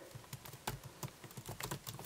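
Rapid typing on the keyboard of a space gray 16-inch MacBook Pro, a run of soft, close key clicks in an uneven rhythm with no talking.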